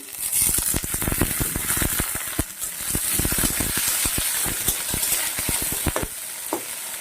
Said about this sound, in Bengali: কেটে রাখা দুটা বেগুন, একটা বেগুনই কেটে নিয়েছি আলু শাকে ভেজে দেব বলে।